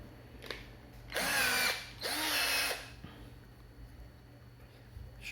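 An RZTK 1220Li cordless screwdriver run in reverse in two short whirring bursts of about a second each, close and loud, with motor whine rising and falling, followed by quiet room tone.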